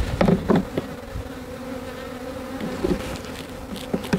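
Bees buzz steadily up close, a dense droning hum with a few louder passes near the start and end.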